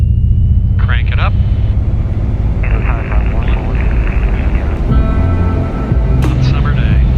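A light airplane's engine throttles up for a straight-out departure after takeoff clearance, a steady droning rumble heard beneath ongoing talk and radio-like chatter.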